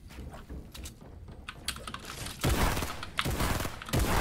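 Video game gunfire: a few loud, sharp bursts of shots close together against a steady clatter of keyboard typing and mouse clicks.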